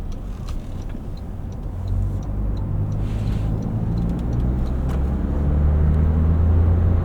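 2024 Toyota Land Cruiser First Edition with a 10-speed automatic pulls out of a corner at about 2,000 RPM, its low engine drone rising steadily louder from inside the cabin, with faint ticking clicks above it.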